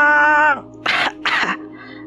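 A woman in an audio drama coughs while being choked, two harsh bursts of coughing following a strained vocal cry, close and loud.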